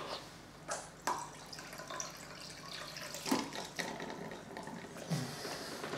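Water and condensate blown out of the sampling line of an Anton Sprint Pro flue gas analyser, heard as a soft running, dripping wash with a few brief splashy bursts, close and fairly quiet with no talk.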